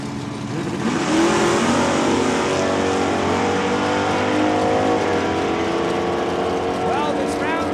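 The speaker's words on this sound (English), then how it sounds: "it is the Oldsmobile crossing the line first" An Oldsmobile drag race car accelerates down the strip at Saskatchewan International Raceway with a loud, sustained engine roar that builds and holds, while an announcer talks over it.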